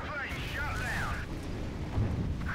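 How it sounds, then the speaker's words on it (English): Torpedo explosions strike a ship in the naval combat game Battlestations Pacific, a dense, continuous rumbling boom with a heavier low thump near the end, overlaid by in-game radio chatter and sweeping tonal sounds. "Oh, that's three torpedoes on target. Boom! Boom! Boom!"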